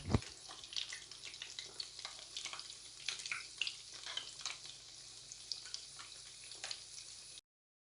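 Rava bondas fry gently in oil on low heat, giving a soft, close, bubbling sizzle with irregular crackles and occasional stirring sounds, quiet overall, ending abruptly.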